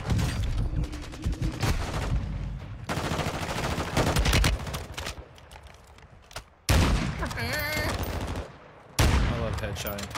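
Rapid gunfire bursts from a first-person shooter game with enemy soldiers, loud and dense, several volleys separated by short pauses, with a player's voice talking over parts of it.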